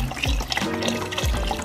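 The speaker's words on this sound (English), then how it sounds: "And I'm gonna add another one of just water." Water glugs from a refilled carton into a pot of soup, a steady close-up splashing pour broken by two deeper gulping bursts as air enters the carton, with no voices.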